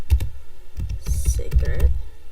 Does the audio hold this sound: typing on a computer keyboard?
yes